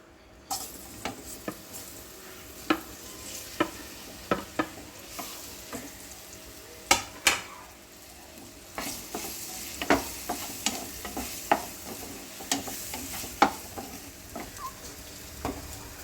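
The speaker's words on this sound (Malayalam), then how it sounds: "നമുക്കൊരു പാനെടുത്ത് അടുപ്പിലോട്ട് വെച്ച് നെയ്യ് ഒഴിച്ച് ചൂടാക്കാം. ഏത്തപ്പഴം അങ്ങോട്ട് ഇട്ട് കൊടുക്കാം" Ripe plantain pieces fry in ghee in a pan, giving a steady close sizzle broken by frequent sharp taps and scrapes of a spatula stirring them.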